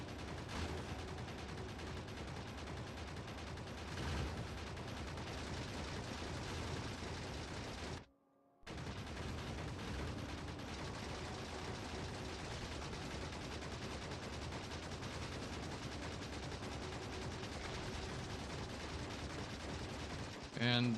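Gun turrets in Factorio Space Age keep up dense, continuous rapid fire throughout, a steady crackling barrage with only one brief gap partway through.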